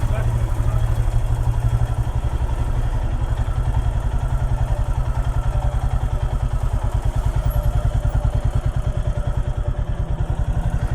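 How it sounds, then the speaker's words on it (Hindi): A motorcycle engine idles close by with a steady, rapid thumping pulse that stays loud and even throughout, with people talking faintly over it. "यही तो है प्रीतिश भाई की बाइक"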